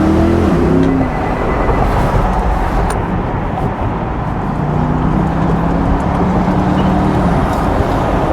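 Chevrolet C8 Corvette convertible with its 6.2 liter V8 running during a top-down winter drive, a steady loud roar with wind and road noise and a brief rise in engine pitch, heard up close without talk.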